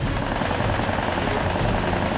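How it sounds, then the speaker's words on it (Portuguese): Sustained bursts of machine gun fire aimed at an aircraft during aerial combat, a dense loud rattle of rapid shots running continuously without pause. "uma saraivada de tiros é disparada contra Ellison"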